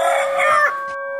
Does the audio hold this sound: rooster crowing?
yes